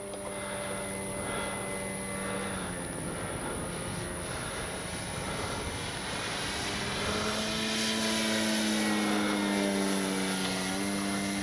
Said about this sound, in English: That is just such a great flying plane.